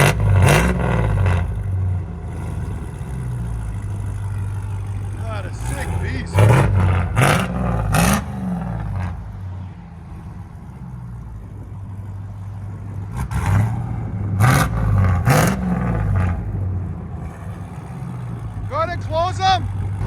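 A Jeep Gladiator swapped with a supercharged Demon engine, fitted with headers and valved exhaust, idles with a deep rumble and snaps into several sharp revs in two clusters, loud and close, while people talk over it.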